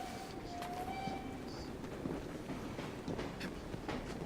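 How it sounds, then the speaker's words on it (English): Train riding in the video game Assassin's Creed Syndicate, set in old London: a steady, continuous rumble of the moving carriage with faint clicks and a brief high squeal, held at an even level throughout. "On board the train now."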